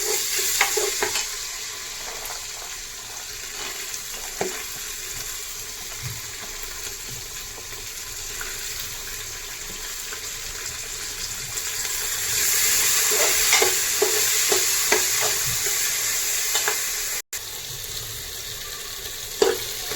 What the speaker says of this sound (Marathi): एक एक करून आपण सर्व भाज्या तेलामध्ये परतून घेऊया.